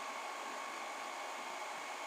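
A repaired In One hair dryer runs steadily with a continuous, even whooshing hum of fan and airflow, close and constant throughout with no voices.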